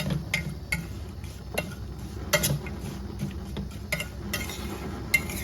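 Jaggery being stirred in a pan to melt for puran poli: irregular light scraping and clinks of a utensil against the pan over a low steady kitchen hum, with no talking.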